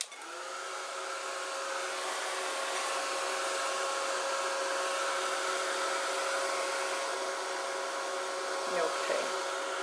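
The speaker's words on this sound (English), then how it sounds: "So I'm going to hit this with the dryer" A hair dryer blows on wet paint during a live painting session, a loud continuous whirring hum with steady tonal whine that runs unbroken for the whole stretch, close and alone.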